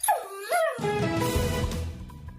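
A dog whimpers in rising, whiny yelps, then breaks into steady barking and yipping in a dog-training radio ad, loud and close with no talk over it.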